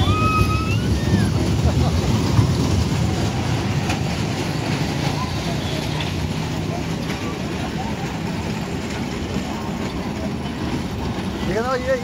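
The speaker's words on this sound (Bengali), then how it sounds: "আমরা এখন এই ট্রেনে চড়বো।" Steady low rumble of a train rolling along, with continuous rattling and clatter throughout, nearby and fairly loud, with a faint whistle-like tone near the start.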